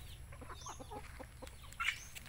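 Chickens cluck softly in a steady, close chorus during feeding, with one sharper squawk near the end over a low background rumble.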